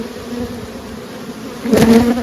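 Nurse bees from a small swarm buzz on hive frames, a steady close drone that swells louder near the end.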